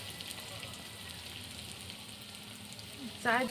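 Pakoras deep-frying in hot oil over a wood-fired stove, a steady close bubbling sizzle throughout, with a brief voice breaking in near the end.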